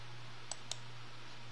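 Two faint, sharp computer mouse clicks come about a fifth of a second apart in a quiet room with a low steady hum, and nobody speaks.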